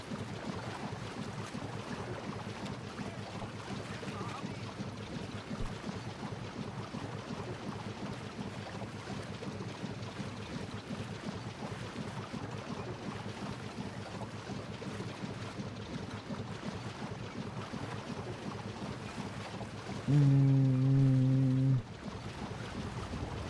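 In the game Book of Travels, a sailing boat moves across open water with a constant rush of wind and sea. Near the end a loud, steady ship horn blares for a couple of seconds.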